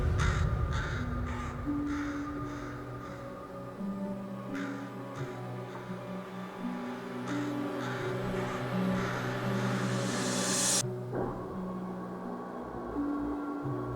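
A crow caws repeatedly in sharp, harsh calls at the start and again through the middle, close and loud over a sustained droning tone and background hum, with no voices.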